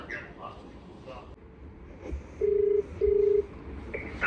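Two electronic keypad beeps from a mobile phone as a number is dialed, each a steady tone under half a second long, close and clear over a faint room background with brief voices.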